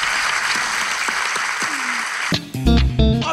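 Applause and cheering fill a short stretch, a broad steady clatter of clapping that ends in a sudden burst of louder, tonal sound near the close.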